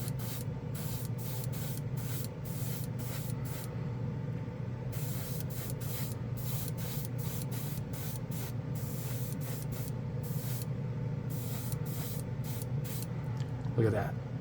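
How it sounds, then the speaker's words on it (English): Mecha Empire polished alloy paint sprayed from a can in repeated short hissing bursts with brief gaps, fairly close and steady, with a short knock near the end. "We're going to spray it over some colors."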